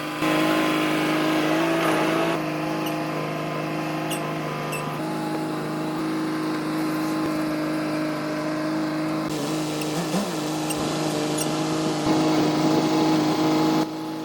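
A front loader's engine runs steadily while it hauls a large grain bin gazebo toward a trailer, a loud, continuous drone with shifting tones and small rattles throughout.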